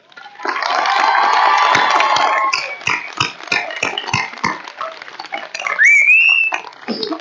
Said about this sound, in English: Graduates, please stand and join me in adding your applause as we thank the dedicated faculty